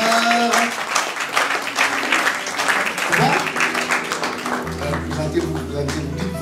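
Applause from a church congregation during a children's testimony, sustained clapping over music with voices talking through it.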